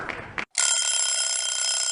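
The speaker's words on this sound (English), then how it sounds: "as well as alarm clock" Alarm clock sound effect from the Wheel of Names tool: after a brief burst and a short silent gap, a loud, steady electronic ringing starts and continues to the end.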